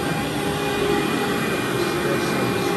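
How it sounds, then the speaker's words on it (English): A vacuum cleaner runs over carpet in a room, giving a loud, steady, unbroken whirring roar from start to finish. "so now we're vacuuming the second room."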